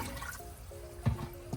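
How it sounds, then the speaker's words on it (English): A dissolved tank treatment is poured into an RV sink, making a soft, close trickle of liquid with a couple of brief splashing drips near the end. "And then I just pour a little bit in the sink"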